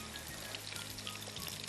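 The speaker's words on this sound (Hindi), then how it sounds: "थोड़ा सा मैं इसमें पानी डालूँ।" Water is poured into a pan of chicken dopayaza masala, making a soft, steady hiss and sizzle with faint crackles, quiet and close with no voices.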